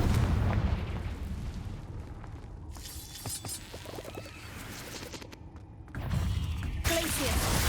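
A Confringo blasting spell in the Hogwarts Legacy video game goes off inside a cave, with booming, rumbling explosive bursts and crackling debris, a loud blast opening and another hitting near the end.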